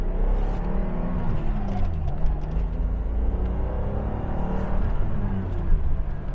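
A 1986 BMW 635CSi E24 engine revs and accelerates with a steady rumbling drone, heard from inside the car while turning in a business park.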